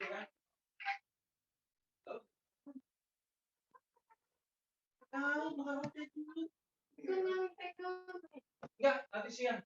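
Chickens cluck in short, scattered bursts, first sparse and then busier and denser, mixed in with people talking nearby.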